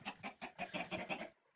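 Chickens in a video game give a quick run of clucks, about half a dozen short pulses close together, then cut off abruptly.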